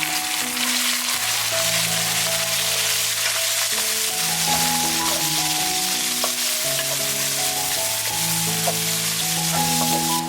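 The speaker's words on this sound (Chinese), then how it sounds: "下面让肉倒进去，给它煸煸" Pork sizzling loudly as it is stir-fried in a hot wok, a close, continuous hiss and crackle with occasional stirring, over soft background music.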